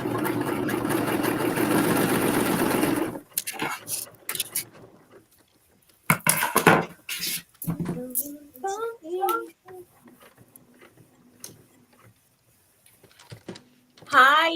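A sewing machine runs steadily and loudly for about three seconds, then falls silent while people talk in a casual sewing session with friends.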